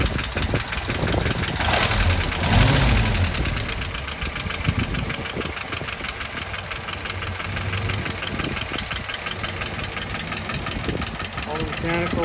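A restored Willys Jeep engine idles with a steady, slightly knocking mechanical rumble, loud and close, with wind buffeting at the start and a voice talking over it.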